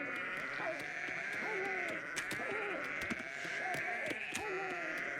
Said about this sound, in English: That's a lot of goats.